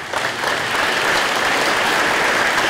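A crowd at a technical center awards ceremony claps for students, a dense, loud, continuous burst of applause that builds quickly and holds steady throughout.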